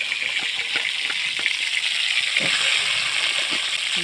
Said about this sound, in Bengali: এবার এই সিমগুলো ভেজে নেবো ভালো করে